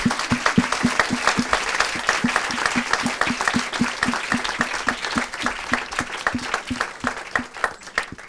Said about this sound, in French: je vous demande d'applaudir et de remercier notre amie Audrey Pulvar